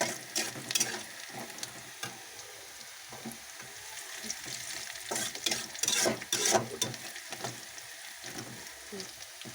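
Chicken meat sizzles in a pan while a utensil repeatedly scrapes and stirs, producing irregular clattering bursts over a steady crackle; no talking.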